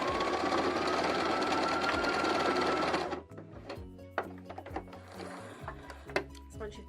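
A sewing machine runs a rapid continuous stitch on a Christmas stocking, then slows into short clattering back-stitch bursts with mechanical knocks and thumps, close and fairly quiet.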